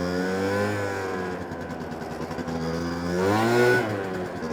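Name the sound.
1993 Honda Dio SR scooter engine revving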